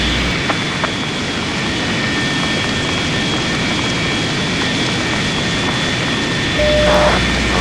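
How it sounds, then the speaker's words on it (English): The right engine of a Su-27 spools up in the Lock On flight simulator game, a steady broadband jet roar with a constant whine that swells slightly near the end, loud and continuous with no talking. "starting the right engine"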